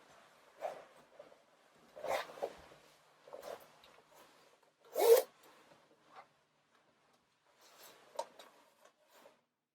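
A zipper on a clothing top being pulled up in several short rasping bursts, close and fairly quiet, with pauses between the zips.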